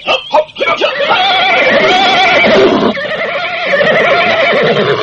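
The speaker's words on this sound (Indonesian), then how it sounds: "Pasukan, bersiaplah di atas kuda masing-masing." Several horses neigh and whinny loudly and close, with a few hoof clip-clops early on, as mounted troops prepare to ride out; the calls overlap and carry on steadily throughout.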